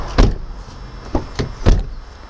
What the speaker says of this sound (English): Door could probably do with adjusting, but does close up and lock no problem.